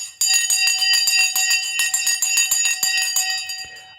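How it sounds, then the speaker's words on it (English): A bright electronic bell rings in rapid repeated strokes for a few seconds, loud and alone, ringing out during stock market trading coverage. "Oh, the bell just gone."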